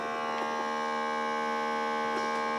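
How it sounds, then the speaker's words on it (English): A Temu vacuum bag sealer pulls air out of a bag with a steady, even electric hum that holds without a break, close and moderately loud, with no talking. "it's vacuuming the air out."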